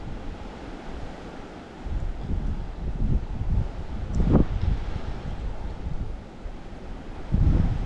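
Steady gusting wind on an ultralight fishing outing for bluegills, a broad rushing noise buffeting the microphone that swells louder in places, with no talk.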